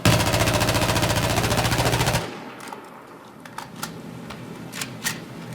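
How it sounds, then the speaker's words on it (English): Full-magazine burst from an AEK rifle fired into a wall in Battlefield 4, a rapid, loud, steady stream of automatic shots lasting about two seconds, then stopping abruptly into quiet game ambience with faint clicks. "I'm just going to mag dump into the wall without doing anything special with my mousing hand"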